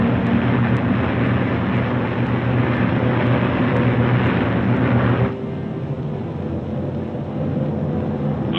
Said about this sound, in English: The Mustangs climb in formation to take positions above the boxes of